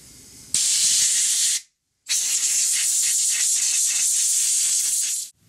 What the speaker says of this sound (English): I like the air compressor method